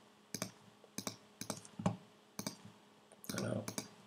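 Computer mouse clicking while drawing a selection with the polygonal lasso tool in image-editing software: about six sharp, close clicks spaced roughly half a second apart, with a slightly longer rustling movement near the end.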